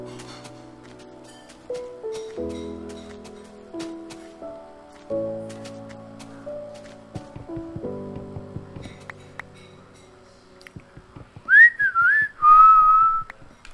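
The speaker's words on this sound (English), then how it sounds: "This is my whistling song." A person whistles a tune in a bright, wavering melody in the last few seconds, loud and close, after a stretch of layered in-game music and clicks from a Minecraft session.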